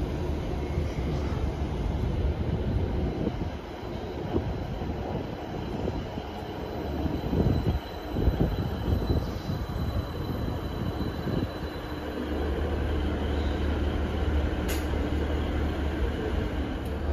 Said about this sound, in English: Departing now to 1636 Transport for Wales service starting here at Cardiff Queen Street going to Cardiff Bay.